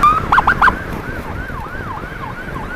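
An ambulance siren being used during a road escort: a brief burst of quick yelping tones gives way to a steady rising-and-falling wail, loud and close over faint traffic noise.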